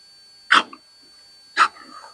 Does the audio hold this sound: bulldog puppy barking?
yes